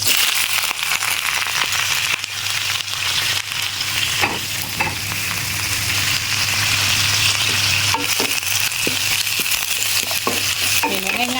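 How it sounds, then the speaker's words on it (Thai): Kale tossed into a hot wok with fresh shrimp, sauce and a little sugar fries with a loud, dense sizzle and crackle that runs throughout, while a spatula scrapes and stirs repeatedly. "กุ้งสุกแล้วผักของเราลงไปเลย"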